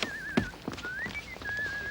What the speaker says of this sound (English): Here, Bossy McCoo, I'd recognize that whistling anywhere